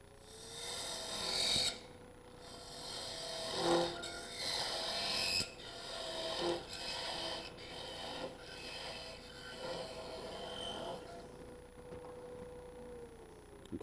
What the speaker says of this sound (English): So now I just have to sand these flats on it.